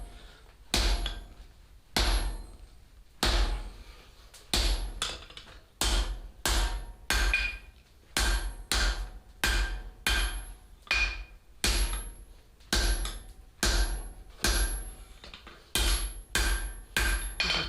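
Steady, ringing hammer blows land on hot steel while upsetting a hot punch handle at a forge, about one strike per half second with brief pauses between bursts, close and loud with no talking.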